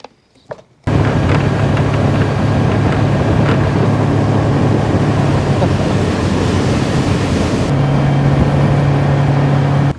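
A loud, steady engine drone with rushing water and wind buffeting the microphone, like a motor boat moving at speed.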